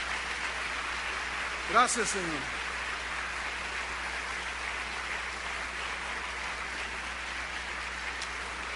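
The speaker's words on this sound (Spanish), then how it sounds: "Denle un aplauso a Él, Él merece un aplauso." A church congregation claps steadily through a sermon at a Spanish-language service, a dense even patter that persists the whole time while a voice briefly speaks over it.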